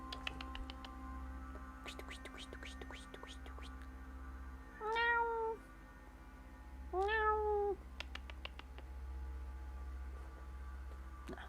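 A house cat gives two clear drawn-out meows a couple of seconds apart, close by, over a steady low electrical hum with faint clicks and soft background noise.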